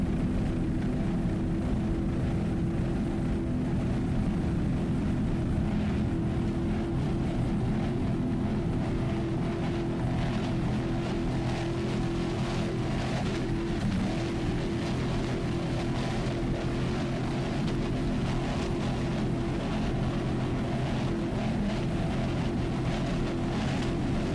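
A Vortec-powered 38-foot Fountain powerboat racing at the 2002 APBA world championships, its engine a loud, steady, continuous drone with heavy low rumble and no breaks, heard from close by.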